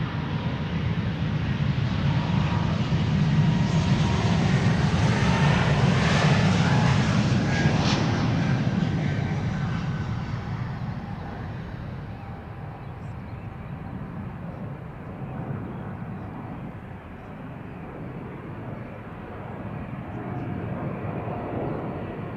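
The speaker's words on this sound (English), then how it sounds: "Bombardier C Series 300. Flight 858." A Bombardier C Series 300 jet airliner departing Amsterdam Schiphol, its broad engine roar swelling to a peak early on, then slowly fading into a distant rumble as it climbs away.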